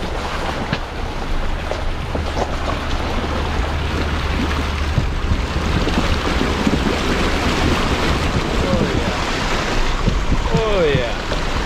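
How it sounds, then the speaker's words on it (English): A vehicle's engine rumbles steadily while driving through a deep river crossing near Great Sand Dunes, water rushing and splashing around it, with heavy wind buffeting, continuous and loud throughout. "coming up on a river crossing here"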